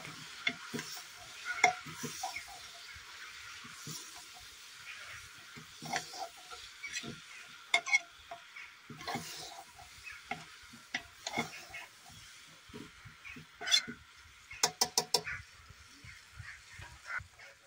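Kashmiri kohlrabi (haakh monje) with chillies stirred in a pan: a steady run of scraping, clattering spoon strokes over a soft sizzle, with a few sharper clacks near the end and no voices.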